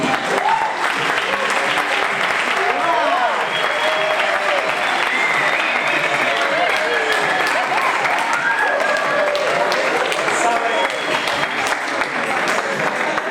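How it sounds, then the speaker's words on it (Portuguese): Loud, sustained applause from a lecture audience greeting a mathematics professor, a dense steady clapping that fills the whole stretch with scattered cheers riding on top. "Uma grande salva de palmas para o professor Rogério Martins."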